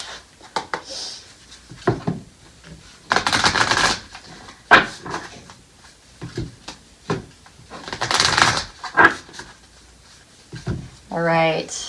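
Advice cards being shuffled and drawn during a reading, with a few loud broad shuffling bursts and lighter taps and rubs between them, close by, as a voice speaks at moments.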